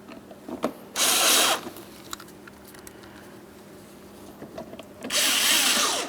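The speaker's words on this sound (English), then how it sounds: "Install each of your 2 mounting bolts. Once they're both started in, you can snug them up." Power driver tightening mounting bolts into plastic on the front interior door panel of a 2008-2016 Chrysler Town & Country: two loud, close bursts of buzzing whir, separated by quieter clicks and handling noises.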